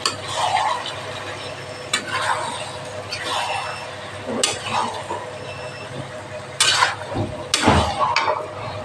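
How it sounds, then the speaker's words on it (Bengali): Jackfruit and prawn curry being stirred in a pan, with spoon scrapes and a soft sizzle coming in irregular bursts, close and fairly loud. "তো এখন ভালো করে মিশিয়ে নিচ্ছি আমি এগুলো।"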